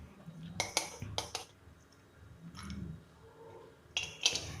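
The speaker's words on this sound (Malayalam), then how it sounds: "അതിനുള്ള ഫില്ലിങ്ങിനായി നമുക്കൊരു പാൻ വെച്ച് അതിലേക്ക് അല്പം നെയ്യ് ഒഴിച്ചു കൊടുക്കാം" A metal pan clinks and clatters on a stovetop while ghee is added for a chapati sweet roll filling, several sharp knocks spaced over quiet kitchen background with faint talk.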